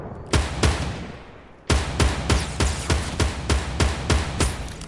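Gunfire in Fortnite: a single shot, a brief pause, then a rapid string of about ten loud, sharp shots at a steady rhythm, close and dominant.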